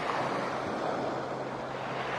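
Steady ocean surf washing onto a beach with light wind noise across the microphone, a continuous near rush of breaking waves with no voices.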